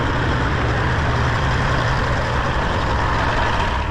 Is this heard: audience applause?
no